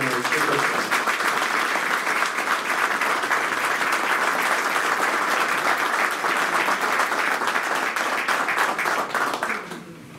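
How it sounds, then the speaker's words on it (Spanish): Sustained, dense applause from an audience at a 904 party members' meeting, steady and full for about ten seconds before thinning out at the end. "Y a ellos yo quiero pedir un aplauso, a todos los militantes de la 904."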